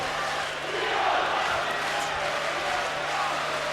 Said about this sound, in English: The crowd trying to lift him,